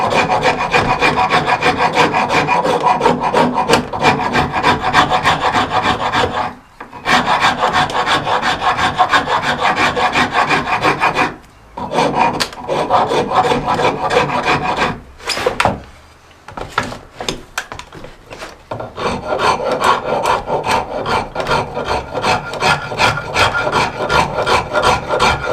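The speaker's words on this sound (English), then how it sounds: "we can use a rasp. A lot of people don't have a draw knife, but will have a rasp. This is just a coarse rasp." A coarse hand rasp shaping a wooden adze handle, with steady rapid scraping strokes in close, loud bursts separated by a few short pauses, no talking.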